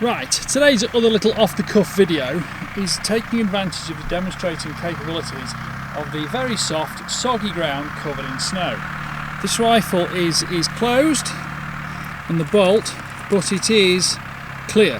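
A farm tractor's engine runs steadily in the background on snowy, soggy farmland, a continuous low drone that stays underneath someone talking close by for the whole stretch.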